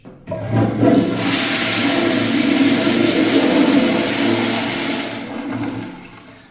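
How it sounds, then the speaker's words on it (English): A Crane Sanuro pedestal urinal with a siphon jet flushes in one loud, close rush of water that swells, holds for several seconds, then tapers off. "Let's have a look at a flush."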